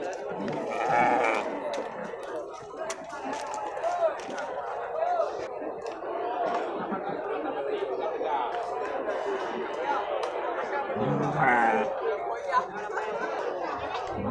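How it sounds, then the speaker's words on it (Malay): A crowd of rams and billy goats bleat here and there at an animal market amid a busy hum of people chatting nearby, with shuffling and clatter throughout. "di tengah-tengah kerumunan dari domba dan kambing"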